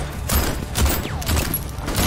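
Bursts of enemy gunfire in a video game, heard as repeated rapid volleys within a dense, busy mix of game sound at fairly steady loudness.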